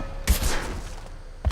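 Gunfire in the Mass Effect 2 video game: a short burst of several close, sharp shots followed by a noisy rumbling tail, with another shot at the end.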